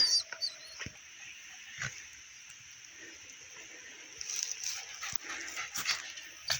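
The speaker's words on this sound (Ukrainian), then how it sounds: "Пес знайшов мене в лісі." A dog moves through an autumn forest with fallen leaves, giving a few faint whimpers and yelps among rustling and scattered sharp crackles, fairly close and quiet.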